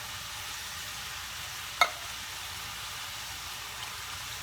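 Two cans of petite diced tomatoes with their juice going into a hot pan, a soft steady sizzle close by, broken once by a sharp metallic clink.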